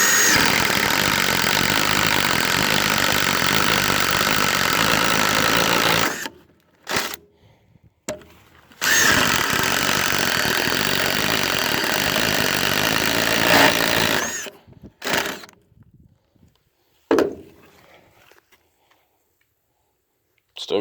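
A contractor-grade power drill with a 1-inch paddle bit whines steadily while boring through wood, two long bursts with short pauses, then brief trigger blips near the end.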